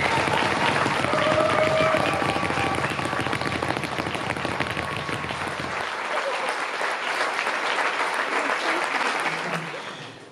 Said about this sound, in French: Je crois qu'on peut les applaudir encore bien fort.